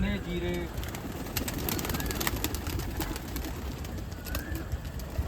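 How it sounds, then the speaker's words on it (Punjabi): Pigeons cooing in a rooftop loft, soft repeated coos and a few chirps close by against a busy outdoor background, with someone speaking. "ਆ ਪਰਿੰਦੇ ਆ ਰਹੇ ਨੇ ਬਾਹਰ"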